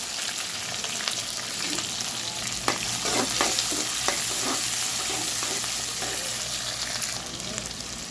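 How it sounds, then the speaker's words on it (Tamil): Onions sautéing in hot oil with mustard seeds and curry leaves for a small-fish curry, a continuous close frying sizzle with scattered crackles and stirring scrapes throughout. "அது கூடவே வெங்காயம் சேர்த்துருக்காங்க. வெங்காயம் வதங்கட்டும்."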